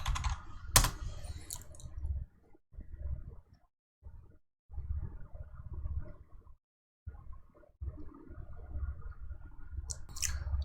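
Password typed on a computer keyboard, quiet bursts of rapid key clicks separated by short silences, near and faint, with no talk.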